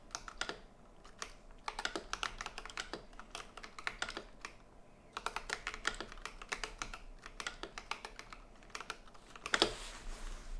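Typing on a computer keyboard, a dense run of quick clicking keystrokes in irregular bursts with short pauses, close and fairly quiet, with no voices.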